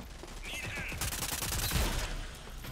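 Pistol fire in the video game Rogue Company, a run of sharp shots clustered in the middle under a constant busy game backdrop, with a faint voice in the mix.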